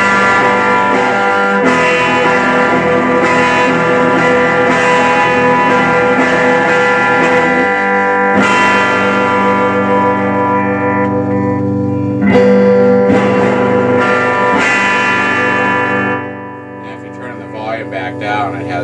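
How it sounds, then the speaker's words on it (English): Electric guitar chords played through a 1941 Rauland public address amplifier turned up into distortion, sustained gritty strummed tones ringing out for several bars before fading at the end. "you can also get a pretty good distortion effect with this by turning up the guitar volume"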